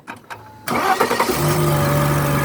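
A 1998 Mercedes S280 automatic cranks briefly with a starter whir, catches, and settles into a smooth, steady idle, heard up close with no talking.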